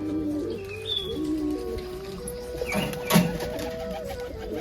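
Pigeons coo softly nearby in a quiet outdoor spot, low murmuring calls repeating over faint background hum with a brief sharper knock near the end.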